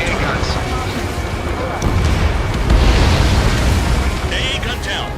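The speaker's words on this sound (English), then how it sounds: "Trigger's taking out one of the AA guns." Deep, rumbling blast as an AA gun is destroyed in Ace Combat 7, swelling louder midway over jet and battle noise, with radio voices talking over it.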